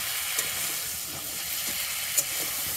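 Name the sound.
crab frying in a pan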